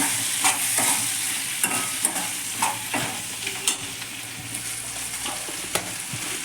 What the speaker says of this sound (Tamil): ஃபுல்லாக ஆனில் வச்சு நல்லா சுருள கிண்டணும்.